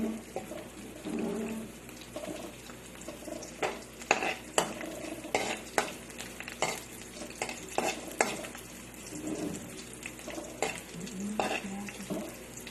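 Ginger, garlic and onion stirred with a utensil in a frying pan for native chicken tinola: continuous soft sizzle with irregular scraping and clinking strokes of the utensil against the pan, close and moderately loud.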